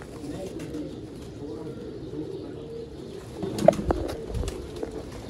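Breeder pigeons coo in a low, rolling murmur through a loft, with faint voices and a few knocks and rustles toward the end.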